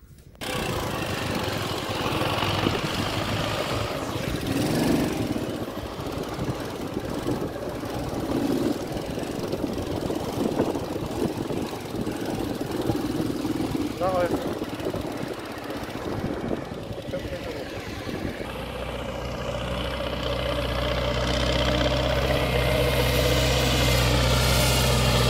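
A tractor hauling a load of yellow soil along a rough, loose rural road drones steadily for the whole stretch, its engine chugging and knocking near at hand with varying intensity.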